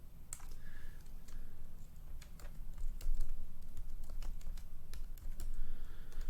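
Fingers type steadily on a computer keyboard for several seconds, a close run of quick, irregular key clicks over a faint background hiss, with no one speaking.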